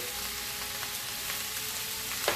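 Beef and broccoli sizzle in a pan with a dense, steady crackle that is close and continuous, with no voices.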